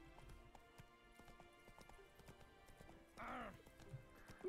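In The Witcher 3, a horse's hooves clip-clop in a quick, steady rhythm, with a brief neigh midway. The sound is faint and low in level, and a voice is barely present.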